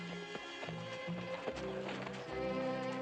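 A horse's hooves clip-clop at a walking pace during a funeral procession in a 1957 Zorro TV episode, close rhythmic knocks set against soft background music.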